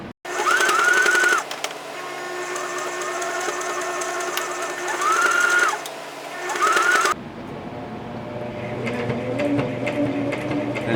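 A sewing machine back stitches an elastic band onto a face mask cut from a T-shirt sleeve. It runs forward and backward in close whirring bursts with brief pauses, then goes on with a quieter, softer run.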